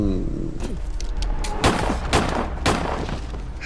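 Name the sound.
gunshots in a film scene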